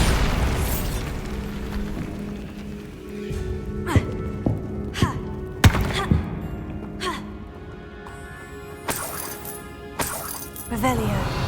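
The Bombarda explosion spell goes off in Hogwarts Legacy with several sharp booms and pops, followed by clinking debris, over game ambience and a faint voice.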